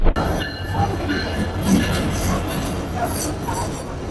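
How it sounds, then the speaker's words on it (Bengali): A train rumbles into a station in Bangladesh on the Dhaka–Cox's Bazar route, its heavy low drone and wheel noise filling the scene, with faint voices and station bustle mixed in. "আমাদের ট্রেনটি চলে এসেছে"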